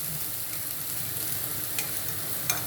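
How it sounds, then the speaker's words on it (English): Onion sizzling and frying in a pan for Japanese fried rice, the onion starting to burn, with a steady close hiss and a few brief stirring scrapes. "Oh crap, the onion's burning here"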